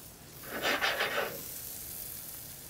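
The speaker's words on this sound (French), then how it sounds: "Ça grésille déjà. Parfait. On entend déjà le barbecue." Food sizzles on a barbecue while a sauce cooks, giving a steady close hiss. A brief louder burst of crackling rises near the start.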